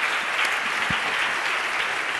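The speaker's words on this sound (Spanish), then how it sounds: "Pido un aplauso para ellos por la visión que nos han dado del mercado." Audience applause at an investment strategy presentation, a steady wash of clapping that holds evenly for about two seconds with no speech over it.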